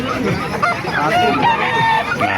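Roosters crow and chickens cluck amid a busy, noisy crowd at a chicken market in Calumpit, with voices chattering in the background.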